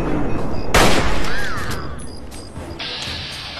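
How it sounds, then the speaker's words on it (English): Gunfire in Fallout 3: a loud, sharp gunshot burst near the start that rings out and fades, followed by quieter game effects and a steady tone, with no talk. "Shoot you in your torso."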